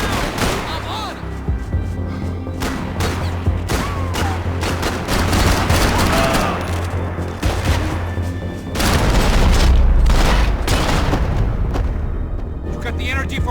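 Heavy firefight in Max Payne 3, with irregular volleys of shots and booming impacts layered over a low rumble, and voices shouting amid the loud, continuous clatter of gunfire.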